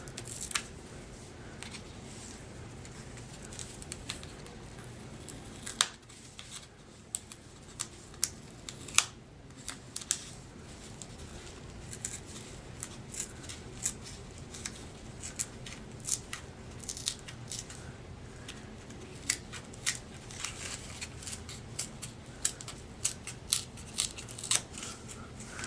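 Paper being torn away from a handmade holiday craft project, a quiet crackle of tearing and small sharp rustles at close range, with no talking.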